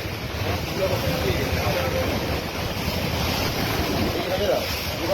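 Ocean waves break on a shore as a continuous broad roar, with wind buffeting the microphone and a voice faintly talking beneath the surf.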